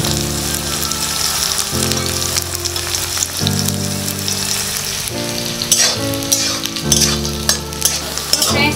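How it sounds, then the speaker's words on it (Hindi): Onions frying in a pan for a drumstick vegetable curry, a continuous loud sizzle with scraping stirring strokes and clinks repeating at close range, no talking. "आप देख सकते हैं प्याज फ्राई हो चुकी है।"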